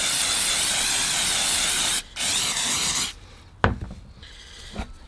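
Steady hissing spray of cleaner onto engine parts, continuous for about three seconds with a brief pause, then stopping, followed by a few sharp knocks and quiet handling sounds.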